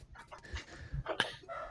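A dog whimpers and pants in short breathy bursts indoors, with thin high whines and quick huffs, fairly faint and close.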